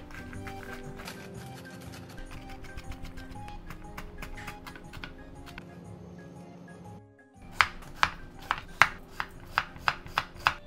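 A sharp knife chops ingredients for arrabbiata sauce on a board, first a dense fast run of close cuts, then after a short pause a slower series of loud, evenly spaced chops.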